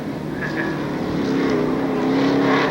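A Class 6 mud bog race vehicle at Lake Odessa, Michigan, in 1994 drives wide through grass. Its engine roars loud and steady, the whine building and rising slightly as it pushes on.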